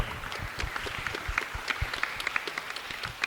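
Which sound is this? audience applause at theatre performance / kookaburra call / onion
audience applause at theatre performance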